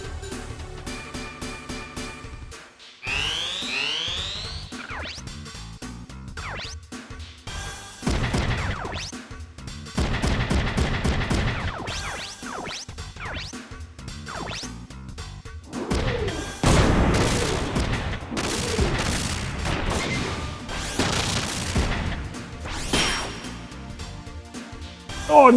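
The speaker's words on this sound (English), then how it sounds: "we're just gonna sit here and fire shotguns at each other over this fence." Shotgun blasts trade back and forth during a Front Mission 3 battle, heavy repeated booms and crashes layered with game music and effects, loud and busy all the way through.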